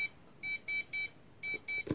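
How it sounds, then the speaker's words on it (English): A homemade Nixie tube clock's electronic alarm beeps in short, evenly spaced pulses, a clear high tone repeating about five times, with a soft knock at the end. "And this is the alarm."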